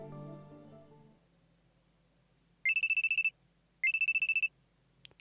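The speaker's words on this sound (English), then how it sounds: "I'm sleeping on the couch when a loud alarm rings in my ears." A phone alarm in the Steins;Gate video game rings in two loud, rapid trilling bursts of about half a second each, separated by a short pause. A low hum and a fading tone sit beneath it.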